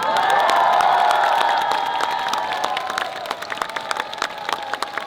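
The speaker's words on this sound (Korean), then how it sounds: "박수 한번 주세요, 여러분." A large crowd at a presidential campaign rally in Seongnam applauds and cheers, a loud, dense, continuous wall of clapping and whoops that eases slightly toward the end.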